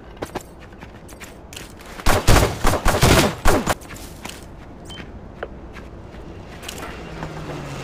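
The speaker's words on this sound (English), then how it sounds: "I just love this shotgun already." A shotgun fires in an online battle-royale video game, a quick cluster of loud blasts bunched in the middle of a few seconds, with quieter game sounds before and after.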